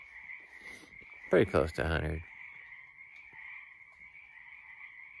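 Frogs croaking steadily in the background throughout, a continuous nighttime chorus, with someone speaking briefly over it for about a second.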